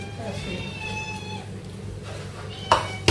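A cat meows a few times close by, with people talking in the background and a brief clatter near the end.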